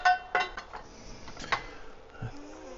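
Spoon clinks and scrapes against a pot while making cottage pie, a few sharp metallic taps and short scrapes in quiet, close surroundings.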